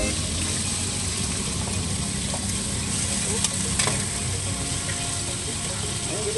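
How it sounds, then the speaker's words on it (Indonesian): Lumpia basah filling fries in a wok at a street-food stall, giving a steady dense sizzle with occasional scraping and clinks of a spatula stirring, close and continuous throughout. "jadi dimasak dulu di katel"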